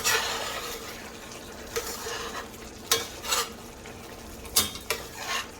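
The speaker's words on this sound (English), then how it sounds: "Give it a stir" Zucchini stew with potatoes is stirred in a pot, a soft bubbling simmer broken by a few scattered spoon scrapes and knocks against the pot, fairly quiet and close.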